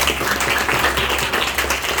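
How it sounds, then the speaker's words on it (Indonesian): An audience at a junior high school presentation applauds, a dense, continuous wash of many hands clapping close and loud, with no voices on top. "Tepuk tangan dulu."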